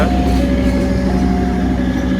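A Mataram passenger train with stainless steel carriages, hauled by a CC203 diesel locomotive, rumbles past close by in a steady, loud low drone with a sustained engine tone and no speech.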